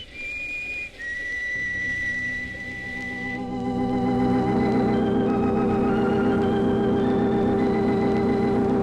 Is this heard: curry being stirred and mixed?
no